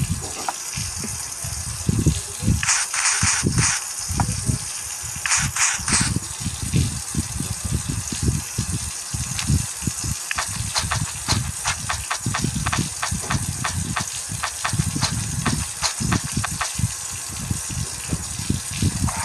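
Shower water running in the Avatar World game, a steady close hiss of spray with brief brighter bursts, and the rhythmic tapping of game sounds and music underneath.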